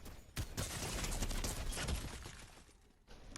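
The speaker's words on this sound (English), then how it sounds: "Shots detected. Enemy turret detected." Turret gunfire rattles in Fortnite, a dense burst of rapid shots heard from fairly close that fades out after a couple of seconds, then picks up again briefly at the end.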